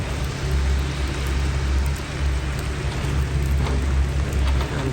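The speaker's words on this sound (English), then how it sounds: "Gentle rain falling now." Gentle outdoor rain on a chilly day at a city civic center mall falls as a steady, even hiss of fine drops, constant and close, with a low rumble underneath and no talking.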